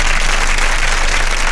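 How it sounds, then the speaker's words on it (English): Steady, dense applause-like patter fills a live-stream booster box opening celebration for a Japanese Guardians Rising pull, continuous and fairly loud across the whole moment with no voices. "We need some claps in the stream, guys."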